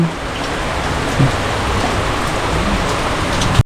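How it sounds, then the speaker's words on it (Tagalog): Heavy rain pours down in a dense, constant roar, close and loud, with a couple of brief knocks. "Grabe ulan."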